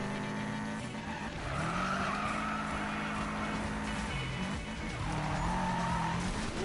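Car drifting in Need for Speed: a steady, loud engine roar with sustained tire squeal rising and falling across the whole stretch, no talking over it.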